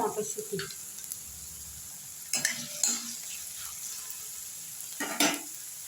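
Tomatoes with peas and turmeric sizzle in a pan while a spoon stirs and scrapes against it in a few bursts, the frying hiss steady underneath and close by.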